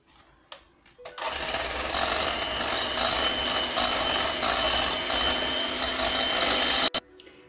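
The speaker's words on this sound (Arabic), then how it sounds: "Donc je vais monter ma crème." Electric mixer whipping cream for chocolate Carambar caramel tartlets, a steady continuous whir that starts abruptly after a second, runs loud and even for about six seconds, then cuts off sharply.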